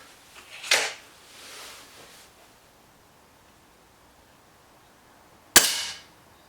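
A single sharp crack of a Webley Xocet air rifle shot in a target-shooting contest, preceded by soft rustling handling noises and followed by several seconds of quiet room tone, close and loud.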